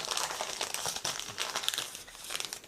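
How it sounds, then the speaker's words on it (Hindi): Close-up, continuous crinkling and rustling as paper is crumpled and laid over fresh coriander in a storage box, with steady crackles and no speech. "इसके ऊपर भी ना ये कागज़ रख देना।"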